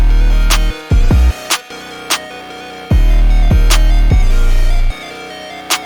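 A buzzy, gritty synth lead over booming low bass, with sharp ticking hits punctuating the pattern, loud and close, no voices.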